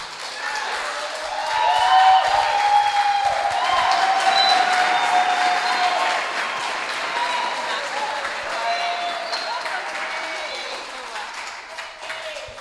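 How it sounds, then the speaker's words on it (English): A TEDx audience at Cipero Street applauds, a dense, sustained wash of clapping from a full crowd that swells early and carries on for several seconds before gradually thinning. "Keep the applause going"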